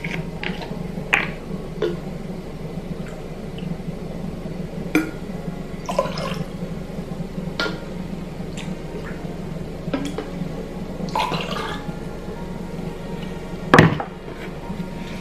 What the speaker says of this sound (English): Then you're gonna do 1 full shot pomegranate juice.